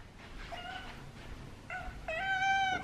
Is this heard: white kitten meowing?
yes